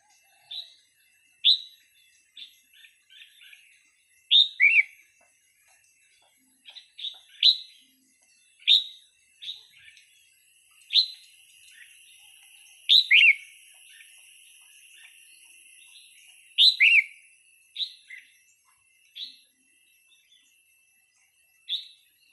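Red-whiskered bulbul calls in short, bright chirping phrases, repeated at irregular intervals and fairly close, over a quiet background with a faint steady high hiss and no voices.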